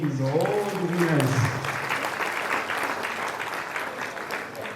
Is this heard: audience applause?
yes